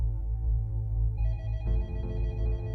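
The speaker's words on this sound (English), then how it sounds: "he got a phone call in his office" A telephone rings as a sound effect: a steady electronic ringing tone that shifts pitch partway through, over a low hum, with no talking.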